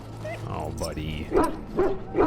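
A wounded dog in the video game Dragon Age: Origins gives short yips and whimpering barks while game characters talk over it.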